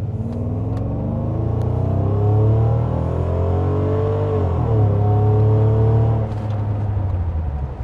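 Heard from inside the cabin, a Mercedes CL600 coupé's V12 engine rumbles low and builds as it accelerates, its pitch rising and holding before easing back off, with no talk over it.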